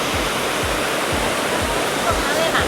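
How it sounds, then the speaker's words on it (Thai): An artificial waterfall pours into a hotel swimming pool in Pattaya at dusk, giving a dense, steady roar of falling water, loud and close, with faint low thumps beneath and no clear talk. "สระว่ายน้ำน้ำตกอลังการเย"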